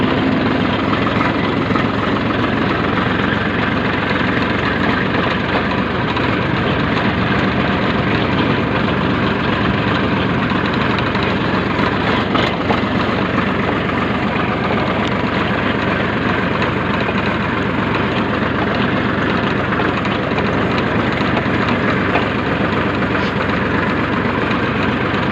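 A diesel tractor engine idles steadily at close range, a continuous low, even rumble that holds unchanged throughout with no speech.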